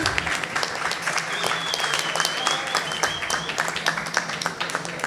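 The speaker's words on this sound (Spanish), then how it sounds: "acá un aplauso, por favor" A gathered audience at a science talk in Manta claps in a dense, continuous patter, with a few voices and a thin whistle-like tone running under the clapping.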